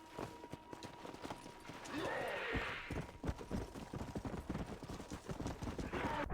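A horse's hooves clip-clop steadily in a video game, with a dense rhythmic patter of hoofbeats over game ambience and a louder swell partway through.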